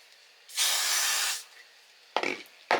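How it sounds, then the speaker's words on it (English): A single sustained hiss of a spray bottle lasts about a second, followed by a couple of short clicks and rustles. "we'll give it a spray"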